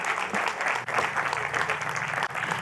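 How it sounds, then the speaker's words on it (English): Steady, fairly loud audience applause at a leadership forum as a panel walks onto the stage, a continuous wash of many people clapping throughout. "Give them a round of applause as they make their way to stage."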